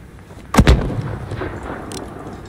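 Enemy mortar fire in Call of Duty Modern Warfare lands as two sharp, booming blasts about a tenth of a second apart. A rumbling tail fades slowly over the next second and a half, with no talk.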